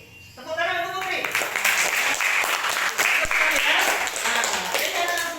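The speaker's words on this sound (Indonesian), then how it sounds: "tepuk tangan untuk Putri" Schoolchildren in a classroom applaud a classmate, a lively, slightly uneven burst of close clapping that follows a brief spoken line from the teacher and runs for about five seconds.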